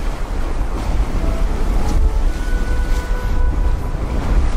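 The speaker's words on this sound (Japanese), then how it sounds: "風がすごいね。" Strong wind on the seashore during shore jigging, loud steady buffeting across the microphone over rolling surf, with faint tonal whines in the background and no talk.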